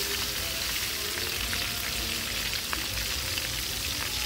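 Bone-in pork chops fry in a pan with a continuous loud, close sizzle and crackle that holds steady throughout, with no talking.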